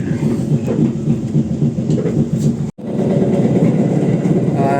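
KA Majapahit economy train with new-generation stainless steel carriages running on rails, a steady loud rumble with clattering wheels heard from inside, broken by one very brief dropout before the roar resumes.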